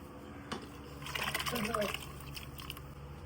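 Liquid is poured into a pot of mutton biryani, a soft close trickling and splashing that swells for a couple of seconds and then fades under a steady kitchen hum, with a voice talking faintly.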